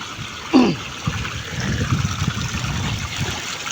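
Steady rushing of river water flowing over rocks, a continuous close trickle and gurgle without speech, at a riverside fishing spot.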